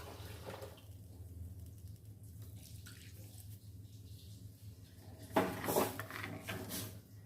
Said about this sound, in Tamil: இப்போ இதில் நம்ம போட்ட மாவுக்கு வந்து ஒரு மூணு கப்பு தண்ணி ஊற்றணும்